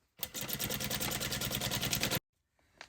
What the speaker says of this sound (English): We're going to sew all the way around the top of the bag up here fairly close to the top.